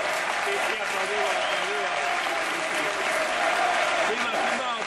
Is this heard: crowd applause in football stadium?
yes